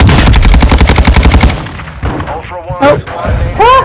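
Loud rapid automatic gunfire from Call of Duty DMZ on Ashika Island, a steady fast burst of close shots lasting over a second, followed by scattered sharper sounds and game chatter.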